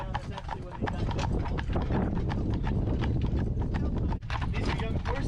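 Young horse hooves clip-clop in a quick irregular rhythm on hard ground during a buggy ride, fairly close, with low rumble and faint voices in the background.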